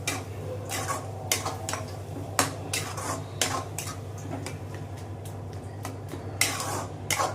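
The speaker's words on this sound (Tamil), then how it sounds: "இது நம்ம நல்லா வதக்குறோம் பாருங்க வதங்கினோடனே தயிர் பிரிஞ்சு போகிறதுதான் நல்லா ஒன்றா சேர்த்து வதக்கணும்" Squid gravy with curd being stirred in a pan, a metal utensil scraping and clinking against the pan in repeated sharp strokes over a steady low hum, close up and fairly loud with no talking.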